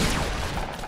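Rapid gunfire in the video game Fortnite runs as a steady, dense burst through the whole brief moment, loud and close with no talk over it.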